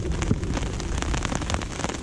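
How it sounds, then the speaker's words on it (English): Rain drums steadily on a fishing umbrella at a carp lake, a dense, close patter with scattered louder drops and no talking. "just tucked up out underneath the brolly away from the rain at the moment"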